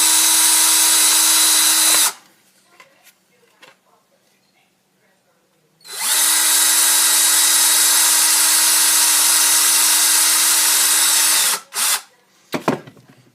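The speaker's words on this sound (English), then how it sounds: "And I'll drill those out so I can install my lens." A loud power drill whirs steadily for about two seconds, stops, then runs again for nearly six seconds, with brief quiet gaps between, drilling holes in a plastic Stormtrooper helmet.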